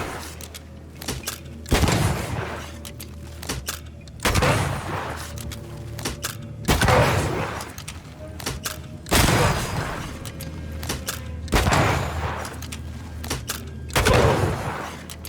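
Rifle shots boom at regular intervals, about six heavy blasts with lingering echo, over a low steady ambient hum during combat in Banishers: Ghosts of New Eden.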